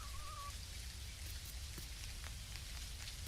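Steady rain falls in the farming video game Dinkum, a dense, even patter of drops that fills the scene without letup, with a brief high chirp near the start.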